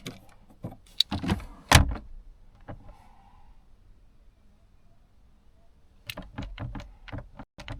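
Mercedes CLK W209 glove box door shut several times in a car cabin, sharp plastic clicks and thumps clustered at the start and again near the end, with quiet gaps between.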